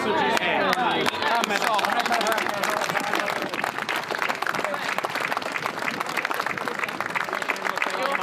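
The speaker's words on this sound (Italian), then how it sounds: "facciamo un applauso" Sustained applause from a crowd at an Easter gathering and Holy Mass, dense clapping continuing steadily throughout with voices mixed in underneath.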